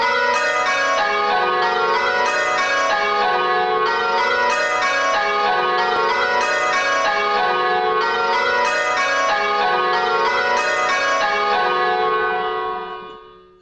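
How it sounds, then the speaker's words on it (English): Several church bells ringing a steady repeating change, the heavier bells leading and the sixth bell following behind, clear and continuous with no talk before fading at the end. "we definitely had one of the heavier bells that was leading, and we would have heard that the 6 is still behind"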